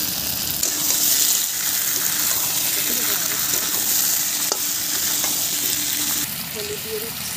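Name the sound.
potatoes frying and being stirred in a pan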